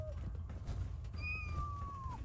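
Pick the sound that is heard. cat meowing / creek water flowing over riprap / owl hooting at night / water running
cat meowing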